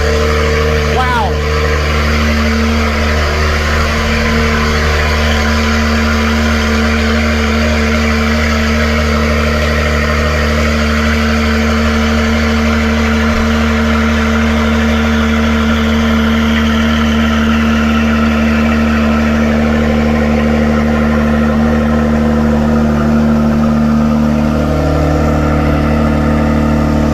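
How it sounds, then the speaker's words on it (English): An Acura NSX NC1 fitted with Science of Speed downpipes idles loudly after a cold start, a steady droning exhaust burble with strong low tones and a slight rev at the start, people talking over it. "That was a loud cold start, let me tell you."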